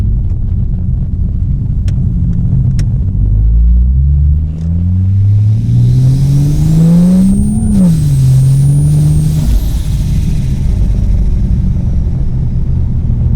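A 620-horsepower turbocharged Ford Falcon engine revs up hard, pitch climbing steeply through a gear change before surging again, loud and close with a deep rumbling roar.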